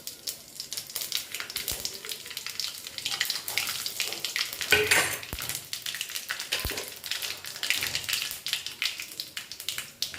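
Bay leaf, dried chillies and five spices fry in hot oil with a continuous crackling sizzle, close and moderately loud, with occasional sharper pops and a brief stir midway.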